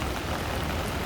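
Heavy rain pours down on a New York City street, a dense, even hiss of countless drops, loud and continuous with no voices.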